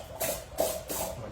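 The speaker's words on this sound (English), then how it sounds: "Okay, and then I just spray some water out." An airbrush sprays water in three short, soft hissing bursts close by, each lasting a fraction of a second with brief gaps between.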